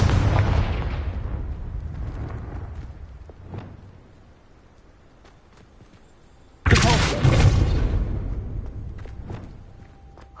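Two explosive spell blasts from the Confringo curse in Hogwarts Legacy on PS5, each a sudden loud broadband burst with a rumbling decay. The first opens the clip, and the second, sharper one erupts near the end after a quieter stretch.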